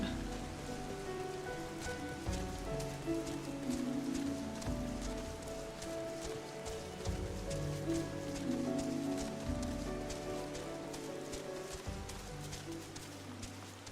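Steady rain falls in the Final Fantasy XIV game world, a soft continuous patter heard faintly at low level beneath gentle background music, with no voices.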